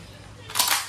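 A Crosman MPW Bushmaster airgun fires on full automatic, heard as one sharp, close, broadband burst lasting a fraction of a second after a quiet lead-in.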